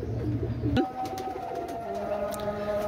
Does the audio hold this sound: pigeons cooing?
yes